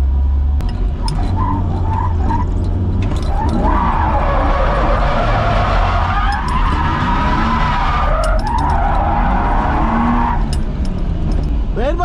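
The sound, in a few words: car drifting with tires skidding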